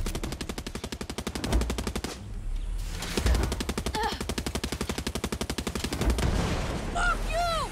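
Rapid automatic gunfire in the video game Far Cry 6 rattles in long bursts, briefly pausing and then resuming, with someone talking over it near the end.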